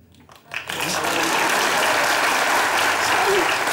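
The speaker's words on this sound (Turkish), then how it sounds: "millet alkışladı" A studio audience at a comedy sketch show breaks into loud, dense applause that swells quickly and holds steady as a thick, continuous roar.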